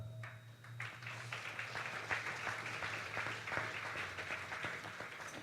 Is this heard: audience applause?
yes